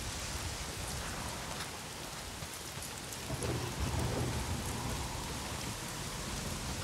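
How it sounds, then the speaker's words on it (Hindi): Steady heavy rain hisses throughout, with low rumbling thunder swelling midway and lingering under the downpour, in the video game Days Gone. "कल भी बारिश हो रही थी, आज भी बारिश हो रही है।"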